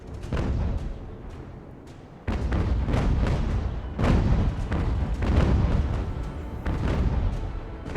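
Heavy cannon fire in the UGAR sea battle game, British campaign: repeated deep booming shots roll out one after another over a continuous low rumble of battle noise.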